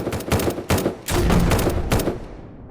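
Enemy gunfire in the zombie survival game SurrounDead: several rapid bursts of close automatic shots in quick succession, loud and punchy, followed by a fading tail.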